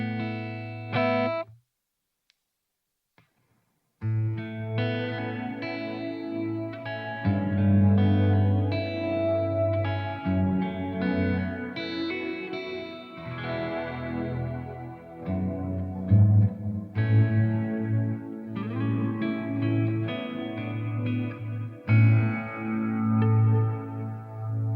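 An electric guitar runs through a Walrus Audio Ambient reverb pedal, sustained chords blooming into a wide, shimmering wash with long trails, after a brief silent pause near the start.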